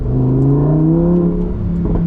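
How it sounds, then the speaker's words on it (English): A Lamborghini Huracan EVO Spyder accelerates from a rolling start on a bumpy road, its engine note rising steadily in pitch with a continuous close, loud drone. "Just a little acceleration there."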